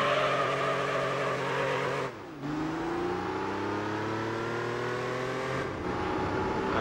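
Porsche Carrera engine in the video game Gran Turismo 3, a sustained revving drone that drops sharply with a gear change then climbs again in pitch, loud and close, alone without voices.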